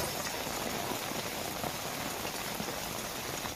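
Light, steady monsoon rain falls without a break, a dense even patter on the surface that stays close and level throughout with no voices.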